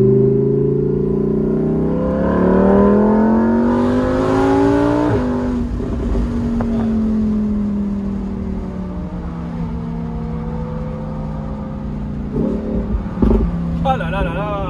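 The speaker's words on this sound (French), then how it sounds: "ça a ouvert les valves. On entend que l'échappement est beaucoup plus méchant" Lamborghini Huracan Evo, 640 hp, with exhaust valves open, accelerating hard: a loud close engine roar climbing through the gears with sharp shift breaks and rising pitch, then a lower rumble and pops, with voices talking over it.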